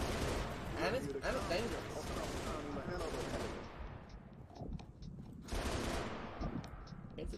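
Pelican dropship turret gunfire in Halo: Reach, with loud, dense bursts of rapid automatic fire that pause briefly in the middle and then resume, while a voice talks over the shooting.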